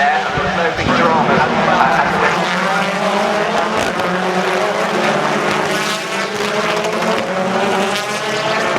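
BTCC touring cars weaving through the chicane at Croft circuit during a race, engines roaring steadily nearby under continuous commentary.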